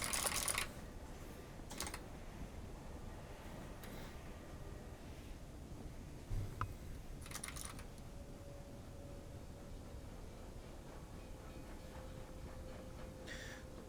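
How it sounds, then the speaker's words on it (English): Light typing on a computer keyboard, scattered soft key taps sitting low under a steady background hum, with no voices. "Does this still pick up my typing?"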